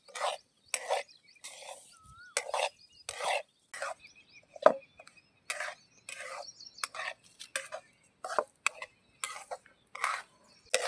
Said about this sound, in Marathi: आपल्याला हा रवा थोडा लालसर भाजून घ्यायचा आहे। तर थोडा कमी जाळावरतीच भाजायचा आहे।